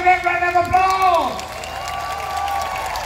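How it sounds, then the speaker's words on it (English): A crowd in an event hall bursts into applause and cheering as a speaker's voice fades out, then keeps up steady, moderately loud clapping for a couple of seconds. "Let's give them a big round of applause."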